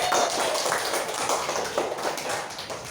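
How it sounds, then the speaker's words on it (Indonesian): Children in a classroom clapping for a classmate, a brief spell of scattered, light applause from a small group, moderately loud and fairly close. "Ya, tepuk tangan untuk Nabila."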